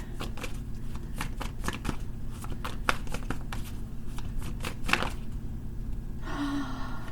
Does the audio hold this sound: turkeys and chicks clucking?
no